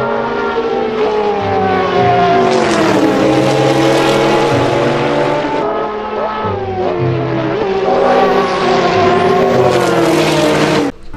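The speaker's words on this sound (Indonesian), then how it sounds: "Wow, lihat teman-teman, ini mobil balap" A toy race car's buzzy engine note, loud and close, rises and falls in pitch across repeated revving passes, with no speech over it.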